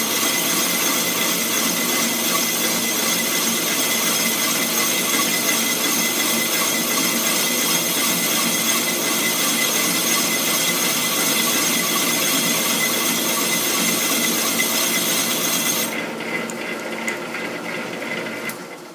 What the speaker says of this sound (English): So now we can safely machine our weld prep on.